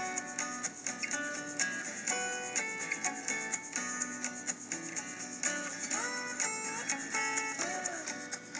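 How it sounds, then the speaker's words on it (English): Rag strokes rub stain onto cut 2x8 wooden boards in a steady, repeated back-and-forth rhythm, soft and close, with music playing underneath. "now we're going to stain them all together"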